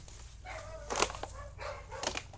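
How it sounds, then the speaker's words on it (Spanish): Two bursts of dog barking sound at a moderate distance on abandoned land, each a short cluster of sharp yelps over a low rumbling background hum. "están ladrando los perros de un vagabundo"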